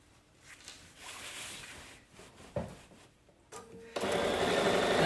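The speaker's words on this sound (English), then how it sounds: "I'm just sewing a regular 1/4-inch seam." A domestic sewing machine stitches a quarter-inch seam on 2-inch quilting fabric strips, starting with faint, intermittent handling noise and then breaking into a steady loud whirring run for the final seconds.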